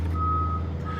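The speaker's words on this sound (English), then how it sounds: "he drives up in his bloody truck?" A neighbour's truck reverses with a steady, high reversing beep, one sustained tone over a low engine rumble, fairly close and clear with no talking.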